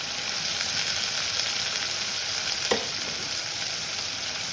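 Onion and garlic sizzle steadily in hot oil in a pan, a constant close hiss with a single soft scrape of stirring partway through.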